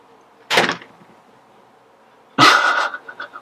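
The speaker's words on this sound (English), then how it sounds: "That was my dog." A dog indoors gives two sharp, loud barks about two seconds apart, the second trailing into a few shorter yelps, with quiet between them.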